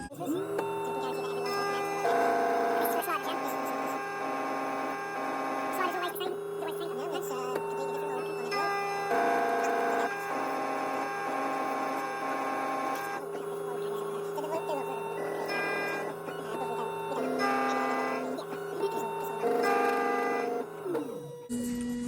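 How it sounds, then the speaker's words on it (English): A key cutting machine in a locksmith's workshop cuts a key with a steady whirring, humming mechanical drone that shifts in pitch as the cutter moves, continuous and fairly close, with voices faintly in the background. "So the machine calibrates itself on every single cut."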